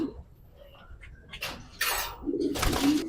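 A racing pigeon cooing close by in a loft, soft low coos mixed with fluttering and handling noises and a brief voice in the background.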